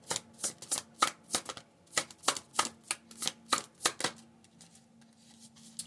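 Oracle cards shuffled by hand in a quiet room, a brisk run of sharp riffling flutters in steady rhythm for about four seconds, then a softer settling shuffle, close and clear with no talking.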